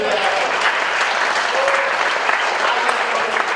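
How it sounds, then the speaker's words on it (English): Congregation at Unity of Austin gives Charles a big round of applause, a dense, loud, steady wash of clapping from many hands that carries through the whole moment. "Let's give Charles a big round of applause for that."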